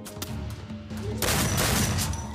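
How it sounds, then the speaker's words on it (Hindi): Rapid bursts of gunfire fill a Free Fire battle-royale match, a loud dense volley swelling after a brief lull and continuing steadily to the end, with no talk over it. "उसने भाई गोली चलाई थी भाई"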